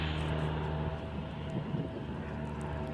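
A small airplane flies near an airport, giving a steady, broad engine drone that holds at an even level throughout with no other clear sounds.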